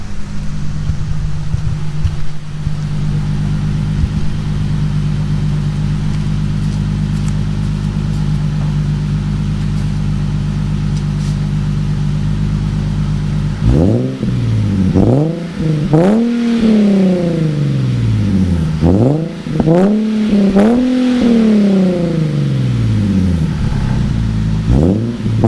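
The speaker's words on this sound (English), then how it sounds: "So I'm gonna go ahead and rev it for you guys, okay? Once again, ISR single exhaust." Nissan 370Z fitted with an ISR single exhaust, first idling with a steady low burble, then revved repeatedly in sharp rising and falling blips, loud and close behind the car with no talking.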